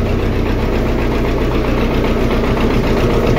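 An MTZ 82.1 tractor's diesel engine idles in freezing weather, a loud close steady knocking chug with even rhythm and no voices.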